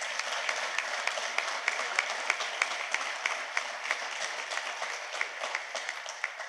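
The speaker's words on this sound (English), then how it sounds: "Let's give them a round of applause." An audience at an awards ceremony claps steadily, a dense even patter of many hands with a few sharper individual claps standing out, heard from a slight distance.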